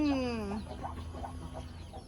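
Fairly quiet fighting chickens in a pen: a drawn-out rooster call trails off at the start, followed by soft, scattered clucks.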